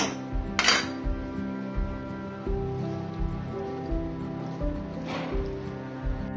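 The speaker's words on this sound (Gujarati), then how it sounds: "એને બરાબર મિક્સ કરી દઈએ." A utensil scrapes and clinks against a bowl in steady, repeated strokes as corn chaat is stirred, with a steady tonal hum underneath.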